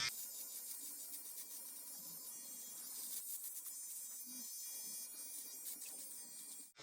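Close, steady buzz of an electric hair clipper cutting hair, a fast-cutting machine humming continuously with small shifts in tone as it moves through the hair.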